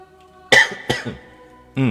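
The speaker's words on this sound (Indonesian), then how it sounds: "Sorry, batuk-batuk terus." Two sharp, close coughs in quick succession from a man lecturing on the Catholic catechism, after which his voice starts again.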